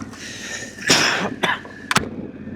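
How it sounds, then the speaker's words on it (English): A few sharp coughs close to the microphone, one strong burst followed by two shorter ones, over light outdoor background noise. "Sorry about that, I had to cough."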